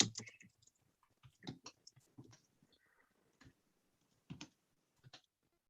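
A computer keyboard clicks in sparse, irregular bursts of quiet, close keystrokes, with short pauses and silences between the taps.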